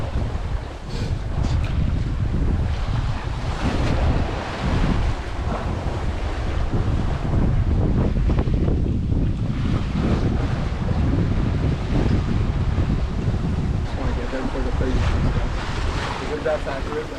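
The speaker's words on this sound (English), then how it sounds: "Oh, we're getting 20 knots of wind, just a warning." Strong 20-knot wind buffets the microphone on a sailboat at an anchorage in Mexico, with waves and surf churning beneath in a loud, continuous roar; voices can be heard faintly in the mix.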